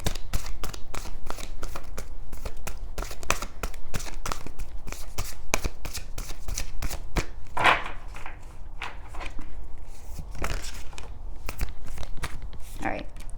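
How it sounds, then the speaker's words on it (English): Tarot cards riffle and snap in quick bursts, a close papery flutter repeated over and over, with occasional louder slaps and no talking. "Last shuffle."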